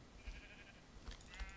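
Sheep in Minecraft give several short, quiet bleats, with no one talking over them.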